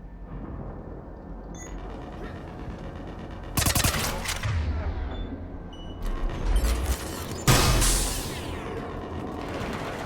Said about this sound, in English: Gunfire. They are near.